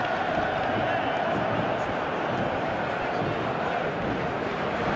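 A stadium crowd of fans in a FIFA video game match between Dundalk FC and Bray Wanderers, a dense steady roar of voices filling the space, with commentary-like speech mixed in.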